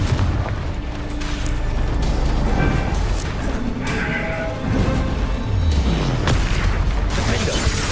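Confringo fire spells blast repeatedly in the video game Hogwarts Legacy, heavy booming explosions and crackling magic effects layered over game music and ambient noise, loud and dense throughout.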